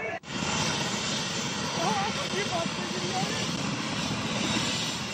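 Helicopter flying over kanwariya pilgrims and showering flower petals, its engine a loud, steady drone throughout with a voice talking over it.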